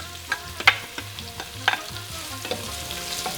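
Chopped red onion sautés in oil with cumin seeds for a butternut squash soup, a steady sizzle broken by several sharp scraping stirs of a spoon against the pan, close and fairly loud with no talking.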